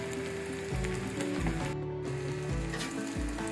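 Gram-flour-coated cauliflower frying in oil, a dense steady sizzle broken by several thumping knocks, close and with no talk.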